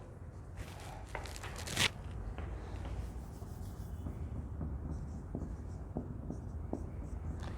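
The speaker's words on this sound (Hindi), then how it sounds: "इसको थोड़ा इधर लिख देते हैं" During a class 9 triangle geometry lesson, a math solution is written on a board as a steady run of scratchy strokes and taps up close, with one louder knock early on.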